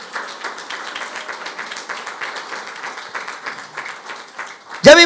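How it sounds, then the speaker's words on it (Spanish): A church audience claps steadily through a sermon break, moderate and evenly textured, ending with a sudden loud bump or handling noise. "Entonces dale un aplauso al Señor"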